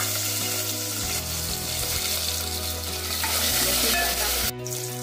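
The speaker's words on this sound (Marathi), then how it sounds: "तेल चांगलं तापलंय. आता याच्यामध्ये मी लसूण घालते पहिल्यांदा, नंतर कढीपत्ता टाकते" Garlic and then curry leaves dropped into well-heated oil, crackling and sizzling loudly with stirring scrapes, a brief sharp burst near the end.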